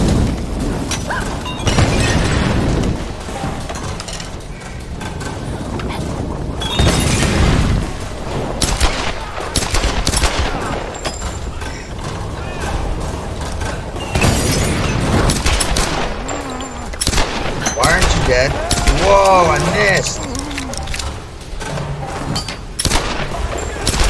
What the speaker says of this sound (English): Throw dynamite